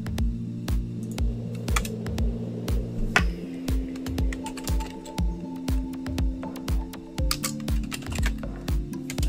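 Typing a command on a computer keyboard at a command-line console, with a steady run of close, crisp key clicks in irregular bursts over a low background hum and no talking.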